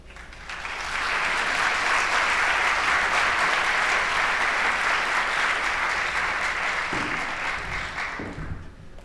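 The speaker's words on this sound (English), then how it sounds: "Let's give another round of applause" An audience at a health conference keynote claps in a sustained burst of applause that swells quickly, holds steady, then tapers off, with a faint voice near the end.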